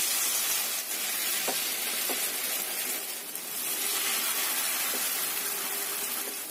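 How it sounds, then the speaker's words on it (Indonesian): Battered tempeh or tofu deep-frying in hot oil over medium heat, a loud, constant crackling sizzle that fills the whole stretch, with a few faint clinks of a utensil. "Setelah panas, ini yang sudah kita celup-celupkan tadi kita goreng."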